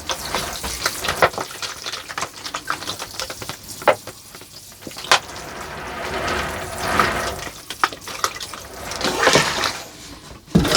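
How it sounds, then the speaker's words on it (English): Water splashes and trickles over bonsai trees sitting in a tray while working on a tigerbark ficus, an uneven close pouring and dripping with brief louder bursts and no voices. "This tray now so we can actually water the trees in here a bit."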